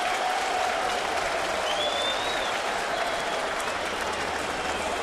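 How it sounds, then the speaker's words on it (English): Baseball stadium crowd at a Mets–Yankees game giving a derisive cheer after a dropped pop-up, a loud sustained roar of clapping and shouting that fills the whole stretch. "the crowd gives him a somewhat derisive cheer"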